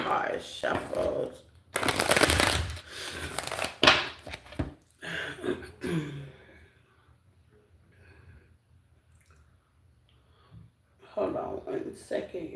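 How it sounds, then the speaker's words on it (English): A deck of playing cards is shuffled in several quick riffling bursts close by, with quieter handling in between and a voice talking near the end. "These cards shuffled."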